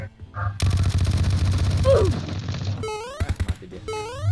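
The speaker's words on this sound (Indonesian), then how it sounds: "Oh ya, ada yang nembak tuh." Rapid bursts of automatic gunfire crackle in a PUBG match, a loud dense volley followed by shorter, spaced shots and game effect tones, with a voice briefly heard during the clip.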